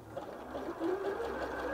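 A Janome 740DC sewing machine stitches a zigzag on fabric, producing a soft, steady mechanical whir with a fast rhythmic patter throughout the short run, close and fairly quiet.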